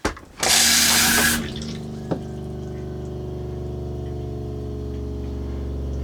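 Water pours into a Thetford RV toilet bowl with the pump running, a loud burst of rushing water lasting about a second, then a steady low hum of the pump continuing alone.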